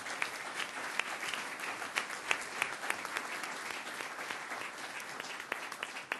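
A county legislature's full session breaks into a round of applause, many hands clapping steadily and fairly close for several seconds, with no talking over it.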